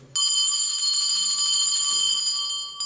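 A sustained, harsh electric bell rings loud and alone for nearly three seconds at a debate competition, marking the end of a speaker's allotted time before cutting off.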